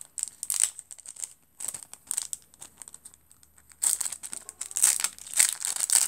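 A paper mail package is opened by hand, with irregular bursts of crinkling and rustling paper close by, separated by short quiet pauses.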